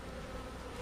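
Honey bees at a hive give a steady, close, continuous drone with no other sounds over it.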